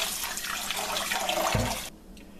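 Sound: rinsing zucchini seeds under running water

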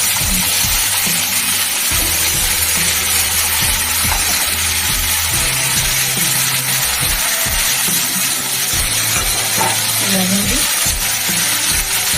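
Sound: boiled shrimp and potatoes frying in oil

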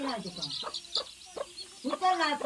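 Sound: chickens clucking

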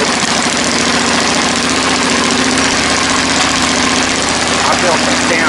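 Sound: homemade tractor engine running on a trail ride

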